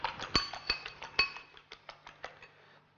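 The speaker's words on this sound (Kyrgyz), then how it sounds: "Кыргызча эле вилка менен аралаштырабыз." Two eggs are beaten with a fork in a bowl, giving a quick rhythmic run of bright, close clinks that gradually soften.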